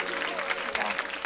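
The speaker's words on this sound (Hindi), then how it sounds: "ताली बजा दो" An audience claps steadily along with devotional Ramayana singing by a women's group in a village, brisk clapping mixed with voices throughout the short stretch.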